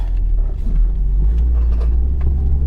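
A 1996 Jeep Grand Cherokee ZJ with an evap problem drives along, its engine and road rumble steady and close throughout with a low, constant drone and no voices.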